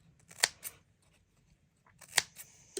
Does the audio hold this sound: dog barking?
no